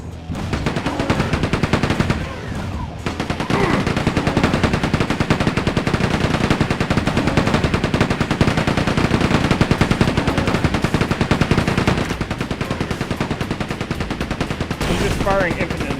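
Enemy gunfire in the PlayStation version of Quake 2 rattles in a relentless, dense stream of rapid shots, loud and continuous throughout with only brief pauses.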